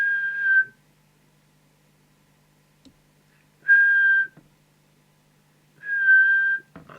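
Whistling into a CB radio microphone for a whistle test while aligning a Ford Roadmaster 500 UK mobile CB transmitter, three clear steady whistled tones of about half a second each, separated by quiet gaps.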